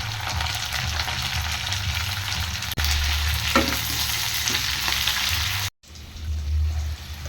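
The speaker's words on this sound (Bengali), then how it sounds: "ক্যাপসিকামগুলো দিয়ে দেবো" Capsicum frying in a pan after lightly fried onions, giving a steady loud sizzle across the whole clip, with a brief break near the end before the hiss resumes.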